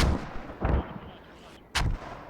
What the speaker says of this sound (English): And just mortars flying.